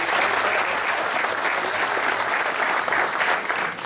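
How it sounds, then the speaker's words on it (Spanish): Sustained applause from an audience at a llanero music event, steady dense clapping throughout, loud and close with no break. "Así que pido un aplauso."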